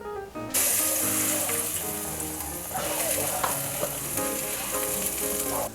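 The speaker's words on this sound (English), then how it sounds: "We're going to turn this on a medium-high heat and add 4 tablespoons of butter." Four tablespoons of butter sizzling in a skillet over medium-high heat, a loud, steady crackling hiss that starts abruptly and continues unbroken, with faint scattered pops.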